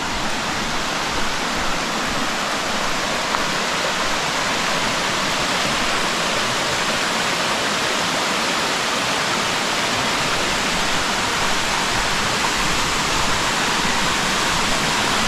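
Waterfall along a hiking trail in Tambach-Dietharz, Germany: a steady, loud, broadband rush of falling water that continues unbroken for the whole stretch, with no voices.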